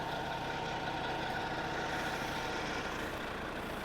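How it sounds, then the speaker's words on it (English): An old tractor pulling mowers through a tall, massive crop gives a steady, continuous engine drone with a low rumble, unbroken and fairly loud throughout with no talk. "Old tractor and mowers getting her done though."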